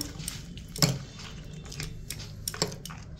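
Walnuts and chopped long green grapes are stirred into raita in a bowl, giving soft wet squishes and a few light spoon clinks against the dish, close and quiet with no talk.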